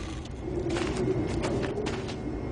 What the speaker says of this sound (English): The machinery's kind of loud, but that's the sound of clean coal technology.